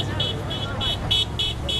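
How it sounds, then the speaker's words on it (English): Car horns honking at street protesters, a run of short, evenly spaced toots over steady traffic rumble, fairly close and clear. "Drivers honked and waved"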